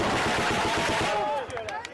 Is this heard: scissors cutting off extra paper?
no